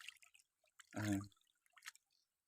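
A fish in a school pond makes one short, faint splash near the surface, set among a few quiet drips in an otherwise calm stillness.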